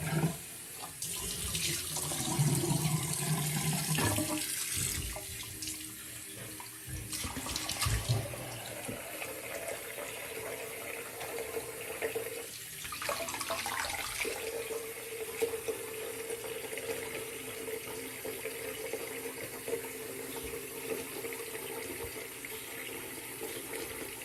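Bathroom tap running into a sink during a straight razor shave, a continuous close hiss and splash of water that shifts in tone as the flow is interrupted, no talking.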